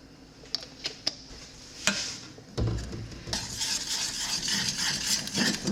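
Apple pie filling seasoned with cinnamon and a drop of vanilla is stirred in a bowl, giving close scraping and wet mixing sounds with a few sharp taps of a utensil, heard alone without talk.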